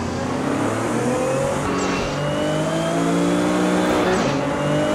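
A Nissan Z sports car engine roars loud and close on a race track, its pitch climbing and falling through gear changes over a continuous engine drone.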